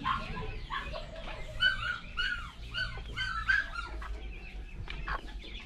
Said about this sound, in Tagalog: Dito naman yung aso, ng anak ng aso namin.